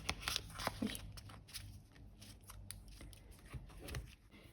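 Paper surprise packets being mixed and shuffled by hand, a close, continuous papery rustle and crinkle with sharper snips and crackles early on, no talking.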